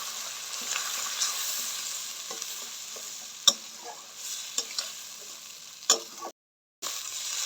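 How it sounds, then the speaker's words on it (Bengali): Ginger-garlic paste and spices fry in a pan for a prawn pulao, a steady close sizzle with occasional sharp clinks and scrapes of stirring, then a brief dropout before the sizzling resumes. "আদা রসুন বাটা, মশলাটা ভালো করে কষাই নিব"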